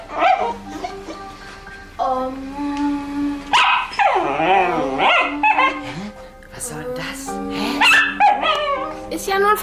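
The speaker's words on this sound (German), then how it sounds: "Das ist doch ein Hund." A dog barks, yips and howls repeatedly and loudly at close range, mixed with people talking over it in a room.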